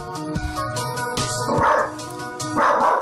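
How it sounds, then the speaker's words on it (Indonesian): A pet dog barks repeatedly at a wall and window indoors, several sharp barks spaced about a second apart with louder, more strained yelps near the end, close to the microphone. "I think we've got a ghost because the dog's barking at the wall"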